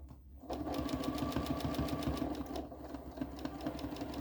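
A sewing machine runs steadily at speed while free-motion quilting a table runner, its fast even needle rhythm loud and close after a brief quiet start, with no talking.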